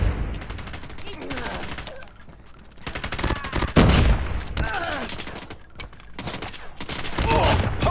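Rapid bursts of AGR gunfire in a Call of Duty Mobile match, loud automatic volleys repeating in clusters with short pauses between them, plus game voice lines and talking in the background.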